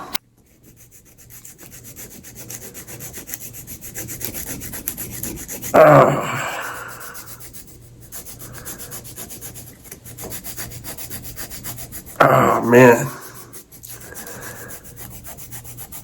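A file rasping over bunions on feet, two distinct bursts of harsh close scraping separated by a long quiet stretch with faint background hum.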